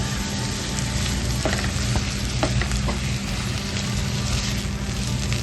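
Tomatoes with salt sizzle and fry steadily in a pan for paneer masala, a continuous close crackle with occasional stirring scrapes and no talking.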